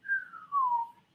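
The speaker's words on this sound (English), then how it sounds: "I might whistle." A person whistles alone: one clear, fairly close tone that glides downward, briefly dips, then carries on lower before fading out.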